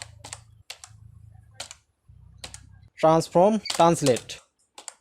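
Quick, light clicks from a computer keyboard as HTML and CSS code is typed, arriving in short bursts with pauses, followed by someone speaking.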